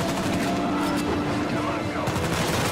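Machine gun fire in the Uncharted 4 video game, a dense continuous clatter of gunshots and bursts running throughout, mixed with game sound effects and someone talking over it.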